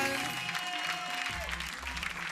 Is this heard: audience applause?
yes